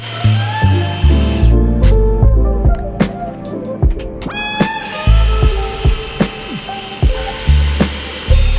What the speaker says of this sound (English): using a brad point bit, I could drill these out very cleanly.